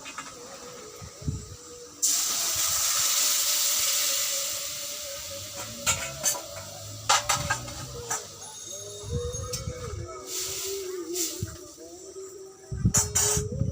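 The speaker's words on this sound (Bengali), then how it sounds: "এবার ঝোলটা আমি ওর মধ্যে ঢেলে দেবো।" Gravy is poured into a hot pan of fried onions and erupts into a loud hiss for a couple of seconds, followed by quieter sizzling and clattering utensil sounds.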